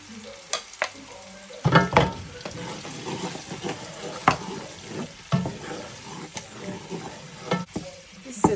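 A paste of garlic, ginger and onion hits hot oil in a pot for a fried egusi sauce, crackling and sizzling close up with sharp stirring clanks and scrapes scattered throughout.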